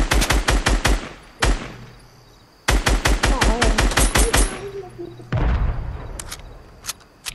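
Rapid automatic gunfire in Fortnite comes in loud, evenly spaced bursts of shots, with a pause between volleys and a heavier boom near the end, and some faint game sounds between bursts.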